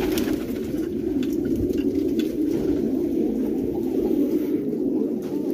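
Pigeons cooing in a loft of colourful fancy pigeons, a steady low murmuring coo that continues throughout, close and moderately loud with no talking.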